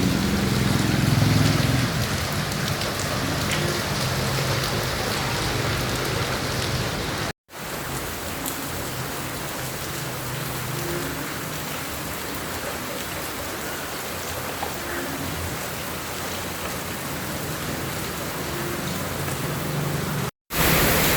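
Heavy rain pours steadily, a dense, loud hiss of drops hammering surfaces with no voices, briefly cutting out twice.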